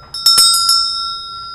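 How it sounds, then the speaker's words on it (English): A Tibetan bell struck a few times in quick succession, each strike a bright metallic clang with long sustained ringing tones that decay slowly, close and clear with no talking. "This is a Tibetan bell."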